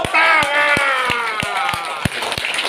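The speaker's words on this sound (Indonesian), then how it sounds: "Tepuk tangan." Applause from the audience at a seminar, heard as a steady run of individual claps that stand out over sustained talking or singing voices.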